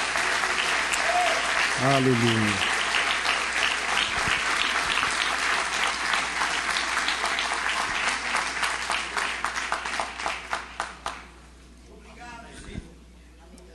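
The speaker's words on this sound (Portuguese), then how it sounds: "Eu quero que você aplaude ao Senhor mais uma vez" Congregation at an evangelical church anniversary service applauding loudly and continuously, the clapping fading into scattered claps near the end, with a voice calling out briefly over it.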